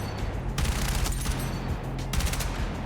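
Automatic weapon in Battlefield firing near 900 rounds per minute, loud rapid continuous bursts with brief pauses, close and with no speech.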